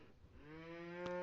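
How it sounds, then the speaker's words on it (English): A single long cow moo from the farming game Farming & Supermarket Simulator rises and holds as a steady, droning bellow, close and clear against a quiet background with a soft thump near the end. "Cow's making a lot of noise"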